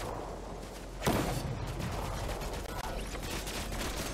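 Distant gunfire from fighting in the video game Fortnite crackles as repeated sharp shots over steady background noise, with one louder nearby crack early on; no talk.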